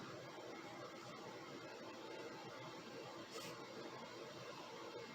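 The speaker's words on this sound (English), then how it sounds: "I'm sorry if you can hear that in the background. That's my air conditioner." An air conditioner runs indoors as a faint, steady broadband hum and hiss, constant and unchanging throughout with no speech over it.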